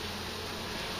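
A continuous close-up hum of many honey bees buzzing together at a hive, with drones present, steady and dense with no gaps.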